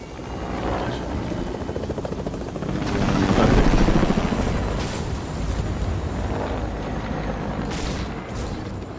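Helicopter in the Fortnite video game, a loud, continuous rotor thump that swells to a peak near the middle and then eases, with a few bursts of game noise over it.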